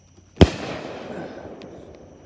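Fireworks at a belated 26th birthday show: one sharp, loud bang followed by a long crackling, rumbling tail that slowly fades, with no talking.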